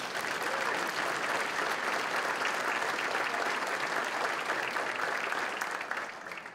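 Sustained applause from a crowd at the City of Midland State of the City update, steady dense clapping throughout that fades slightly at the end, with no voices over it.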